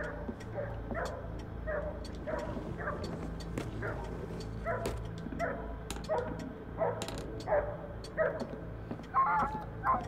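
A dog barks in the horror video game The Nightfall, a series of short, fairly faint yips and whimpering barks repeating irregularly over low background ambience.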